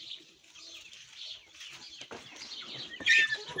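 Young chicks move around a backyard near the listener, giving faint clucks and soft peeping calls, with a louder burst of chirping toward the end.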